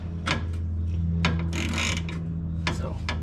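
Wrench work removing bolts from Jeep shocks, giving brief metallic ratcheting and clanking bursts over a steady low hum, several short clicks and one longer grinding scrape at close range.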